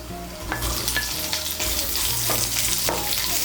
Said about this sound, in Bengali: পেঁয়াজ কুচিটাকে তেলের সঙ্গে মিশিয়ে নিয়ে লাল করে ভেজে নেব।